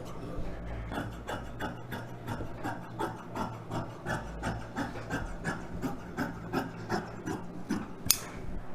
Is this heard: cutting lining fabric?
yes